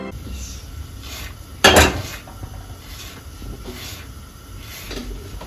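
Pots and pans clatter during home cooking in a kitchen, with one loud sharp clank of metal cookware standing out above a steady low background of quieter dish and utensil handling.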